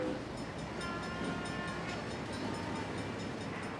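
A train rumbles steadily along the rails at a moderate distance, a continuous low roar with faint clattering and no voices.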